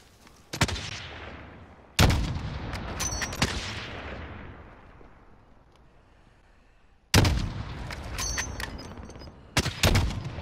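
Gunfire in the video game Call of Duty Warzone: loud sharp shots crack out in bursts, each trailing a decaying echo, with a quiet lull in the middle and a cluster of rapid shots near the end.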